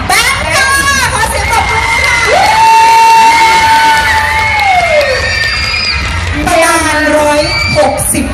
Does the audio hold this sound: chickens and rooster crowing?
no